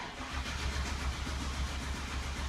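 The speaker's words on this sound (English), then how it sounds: "Let's crank it over," Car engine with a no-start fault cranking over without firing, a steady low churning drone that holds evenly for a couple of seconds, loud and close with no voices.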